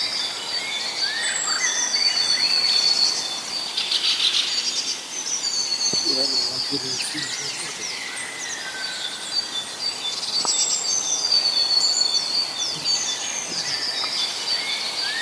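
Birds in a forest sanctuary beside a narrow canal send bright, high chirps and twittering calls through a quiet, airy background. Some calls ring out close and others sound farther off, and they rise and fall over about fifteen seconds.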